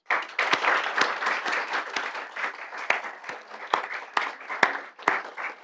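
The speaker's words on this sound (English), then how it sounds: "So please give a warm round of applause to these valued employees." Audience applause for award-winning employees at a June 2019 GRF meeting ceremony, with steady dense clapping and sharp individual claps standing out throughout, moderately loud and without speech.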